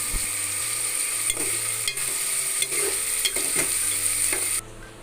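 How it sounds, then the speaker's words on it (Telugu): Food frying in two or three tablespoons of oil, a steady close hiss and sizzle with occasional stirring scrapes and taps of a utensil in the pan, no voices, the sizzle dropping away near the end. "సో ఇవి కొంచెం ఆయిల్ వేసుకొని అంటే two are three table spoons oil వేసుకొని వీటిని ఫ్రై చేసుకోవాలన్నమాట"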